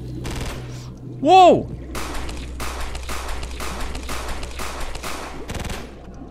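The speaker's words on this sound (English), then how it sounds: "Somebody's shooting at me!" Rapid gunfire in a horror video game, bursts of shots crackling close over a constant low hum, while someone shouts in surprise partway through.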